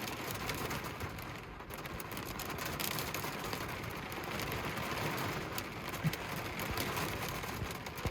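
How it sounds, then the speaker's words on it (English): Hail falls on the hood of a truck in the mountains of Maine, a dense, continuous pattering and ticking of small ice balls on metal that stays steady and close. "You see the hail balls on the hood."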